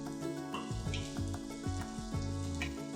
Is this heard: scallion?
yes